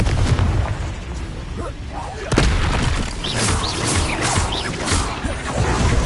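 The Confringo fire spell explodes in the video game Hogwarts Legacy, loud booming blasts over dense, rumbling game noise, with a voice speaking along.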